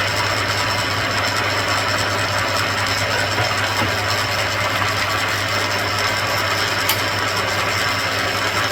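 A thread tapping machine in a fabrication shop runs steadily, a loud continuous mechanical hum and whir with a low motor drone throughout, no speech.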